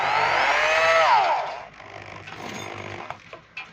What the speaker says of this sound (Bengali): এই যে আমরা স্ক্রু মারুম